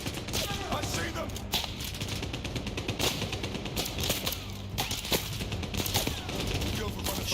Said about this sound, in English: I didn't even see what was shooting me